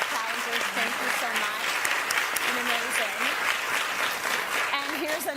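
A television studio audience on a weight-loss challenge segment applauds steadily, a full, continuous clapping with a voice speaking over it throughout.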